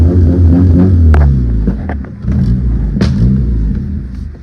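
A 1997 JDM Honda Accord wagon pulling away after an idle adjustment, its engine rumbling close by and revving up through a couple of gear changes, with brief throaty surges and short dips between them.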